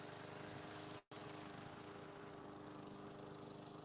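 A lawnmower drones steadily in the background on a windy day, a continuous low engine rumble that drops out briefly once before resuming.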